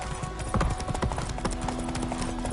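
Horse hooves galloping in the Witcher 3 video game, a steady rhythmic clip-clop of hoofbeats close up over continuous ambient game background.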